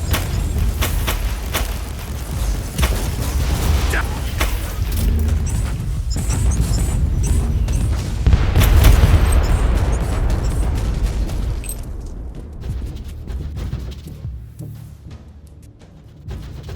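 Rebel mortar explosions in Warhammer 40K Inquisitor Martyr rumble as heavy, rolling booms and bursts layered over battle noise, building to a loud peak before fading toward a quieter tail.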